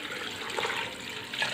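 Water pours steadily into a pot of beef kabab, a continuous soft splashing stream with a slight swell toward the end, heard alone.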